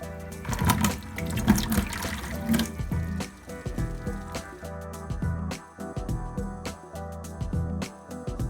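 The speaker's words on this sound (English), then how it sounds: "I'm gonna pour these guys out over a net and try and get rid of all the water from the quarantine tank" Aquarium water from a quarantine tank poured out over a fish net, a continuous close splashing and gurgling stream with brief dips in flow.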